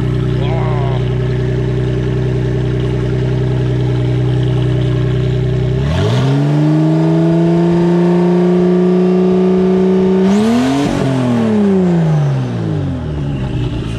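Close, loud V12 bi-turbo engine fitted in a Citroën Traction, holding a steady high idle, then revving up around the middle and again near the end before settling.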